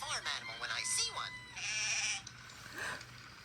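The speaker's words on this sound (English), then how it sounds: "It's a sheep." A sheep bleats in a cartoon farm-animal scene, with wavering cries around the one-second mark and again near three seconds, mixed in among animated voices talking over a low steady hum.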